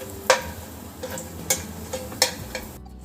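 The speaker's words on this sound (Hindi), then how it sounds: "उसी तेल में फ्राई कर रहे हैं।" Fox nuts (makhana) tossed lightly in a pan of oil: sharp spatula clicks and scrapes every half second or so over a faint, low sizzle, close by.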